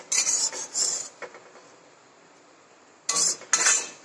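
An iron kadai on a gas stove is wiped clean, giving short, close bursts of rasping cloth-on-metal scraping in two groups separated by a quiet pause.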